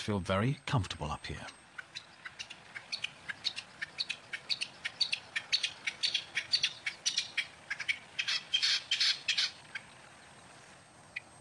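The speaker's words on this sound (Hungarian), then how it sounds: "Köztük a szirti fogó is." Alpine choughs call in the high mountains of Hohe Tauern National Park, Austria, giving quick, bright chirps and squeaks that repeat steadily at moderate distance after a brief voice at the start.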